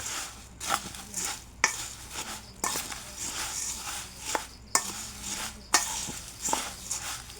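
Food being mixed by hand with mustard oil and salt, giving soft squelching, rubbing sounds broken by several sharper clicks and knocks at irregular intervals, close by and moderately loud with no talking.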